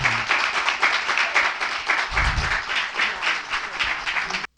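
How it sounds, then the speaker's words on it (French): A church congregation at a worship service claps loudly and steadily for several seconds, a dense wash of applause that stops abruptly. "Accueillons sur vos applaudissements Sœur Huguette"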